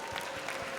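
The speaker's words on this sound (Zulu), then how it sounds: "cela nishaye ihlombe bazalwane" Brief burst of congregational applause in a Zulu church service after an offering, a soft, steady wash of many hands clapping at low level with no voices over it.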